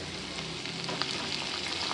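Ginger and green chillies frying in hot tempering oil for tamarind pulihora give off a steady, close, even sizzle with no pauses and no talking.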